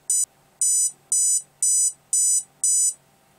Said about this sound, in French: De 4 bips qui nous donne dans le menu des timings de moteur